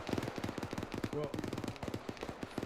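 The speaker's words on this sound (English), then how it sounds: "That right there is friendly fire" Friendly gunfire during a military field training exercise, rapid crackling shots in quick uneven bursts, fairly distant, with a voice speaking over them.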